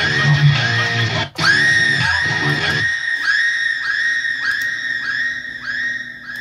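A girl's scream used as a vocal sample in a trap metal beat, one long harsh shriek that breaks off briefly, then repeats in rhythmic echoing bursts as a delay effect trails it.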